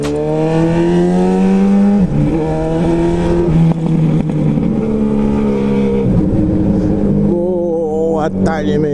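A motorcycle with a bare Yoshimura exhaust pipe and no tip revs loud and close, its engine note rising and falling several times in short bursts.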